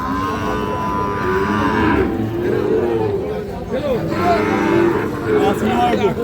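Cattle moo loudly nearby at a livestock market, long lowing calls repeating over a busy crowd murmur and people talking in the background.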